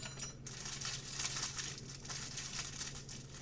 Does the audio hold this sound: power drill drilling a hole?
no